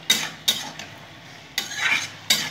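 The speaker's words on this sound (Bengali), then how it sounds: "মশলা আমি কষিয়ে নিয়েছি খুব ভালো করে।" Spices are sautéed in a pan, with a low sizzle underneath and four or five brisk scraping strokes of a utensil stirring them, close and moderately quiet, with no talking.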